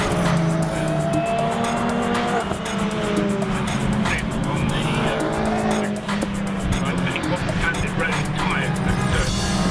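Race cars circuit race on a wet track with standing water, loud engines revving and shifting with tire squeal and passing cars, while people talk over the noise.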